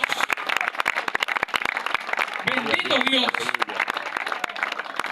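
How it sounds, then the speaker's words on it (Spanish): A church congregation claps steadily throughout, with a voice speaking and calling out in Spanish over the applause. "Denle un aplauso al Señor."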